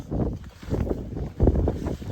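Gusty wind buffets the microphone outdoors in a valley, in low, rumbling bursts, rising and falling several times with no speech.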